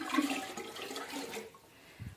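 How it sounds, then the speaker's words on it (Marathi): Water pours from a filter into a clay pot in a steady splashing stream for about a second and a half, close by, then stops, leaving only a faint knock. "त्यानंतर मग मला असं पाणी भरावं लागतं."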